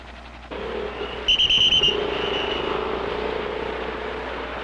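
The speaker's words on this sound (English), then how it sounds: "Traffic congestion has now reached staggering proportions." City traffic in 1960s Bangkok, a dense and continuous rumble of vehicles with a short bright whistle or horn-like tone near the start, steady and moderately loud.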